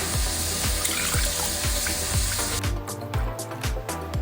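Water is poured from a tap into a pot, three cups for a candy apple mix; a steady rushing trickle fills most of the span, then eases into lighter splashing near the end.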